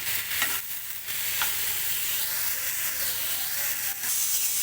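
Onions, tomatoes and other ingredients fry in a little oil for village-style mutton kalia, producing a steady close hiss and sizzle with occasional stirring knocks, no talking.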